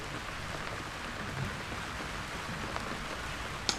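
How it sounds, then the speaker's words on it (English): Light rain falling on a cricket ground during a Gloucestershire v Wiltshire match, a faint steady patter picked up by a field effects microphone, with an isolated sharp tap near the end. "the rain is starting to fall. Yeah, I was hearing some rain on our effects mic."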